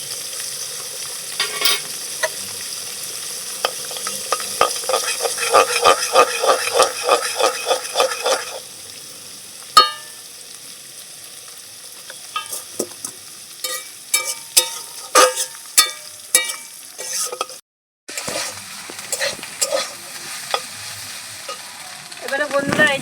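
Pieces of cut wheat-flour roti are stirred and fried in a pan with beaten eggs, salt and pepper. A sizzle runs under quick, rhythmic scraping strokes, which pause, then return as sparser, sharper stirs.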